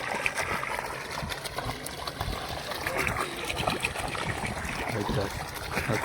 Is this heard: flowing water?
yes